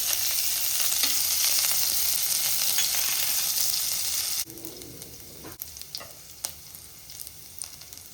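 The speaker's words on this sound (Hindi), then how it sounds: "हमारा तेल गरम हो गया है। अब हम इसमें डालेंगे कलौंजी। साथ ही में मैं इसमें डालूंगी हरी मिर्च।" Nigella seeds and green chillies crackle and sizzle in hot oil, a loud dense frying hiss for about four seconds that then drops to a quieter sizzle broken by sharp pops and spatters.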